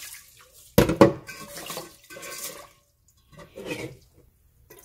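Food being rinsed under a running kitchen tap, water splashing in bursts with a loud splash near the start and quieter trickles and pauses after.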